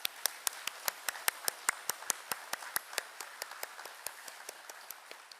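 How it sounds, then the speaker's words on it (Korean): An audience at a large church evangelism gathering claps in unison, a steady rhythmic beat of sharp, fairly faint claps at a regular pace throughout. "하나님께 다시금 감사의 우리 영광의 박수 올려드리겠습니다"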